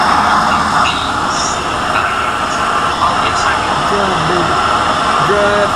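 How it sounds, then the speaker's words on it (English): A subway train spawned in the railway game Rolling Line rumbles steadily along the track, a loud, continuous rolling drone with faint squeals, and voices speak over it. "Really? Why a subway train?"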